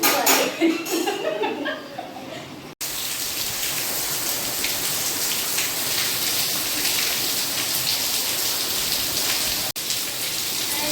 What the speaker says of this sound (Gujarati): ધબધબાટી વરસાદની ચાલુ છે